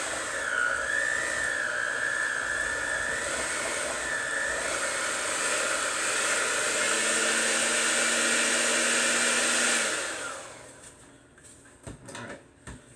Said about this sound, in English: It's a little too much for this mixer to handle now that it's starting to hydrate the flour for us.